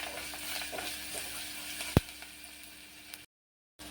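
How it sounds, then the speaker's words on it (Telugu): Onions frying in a pan, a steady soft sizzle with a faint stirring scrape and one sharp clink, quiet and close, then a brief silence near the end. "onions fry అవనిద్దాం"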